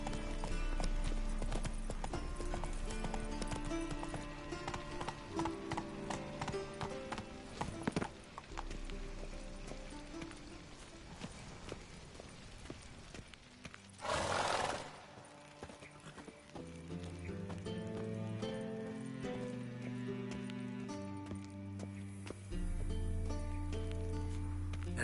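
Hooves clip-clop steadily as Roach, Geralt's horse in The Witcher 3, trots along under a bed of game music, with a brief burst of noise and a whinny midway.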